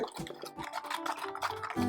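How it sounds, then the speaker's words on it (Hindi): Aquarium water in a large planted tank being stirred by hand to mix in Super 4 bacteria powder, giving a steady run of close, soft sloshing and dripping sounds with no talking. "जस्ट मिक्स करने के लिए हम थोड़ा ये मिक्स कर रहे हैं"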